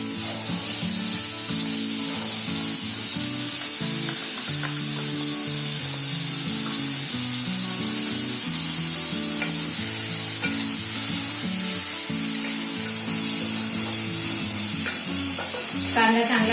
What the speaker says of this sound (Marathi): कांदा चांगला फ्राय करून घ्यायचा